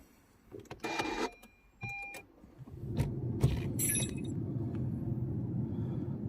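A Honda HR-V being started: clicks and short mechanical whirs, then the engine catches and settles into a low, steady close rumble.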